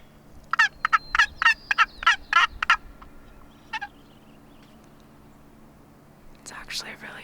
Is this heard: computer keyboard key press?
no